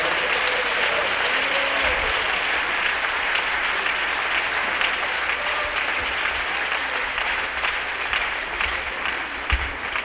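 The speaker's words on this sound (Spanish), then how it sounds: "Un aplauso para nuestro Dios." Congregation at a church service applauds steadily and loudly throughout, a dense continuous wash of many hands clapping with no break.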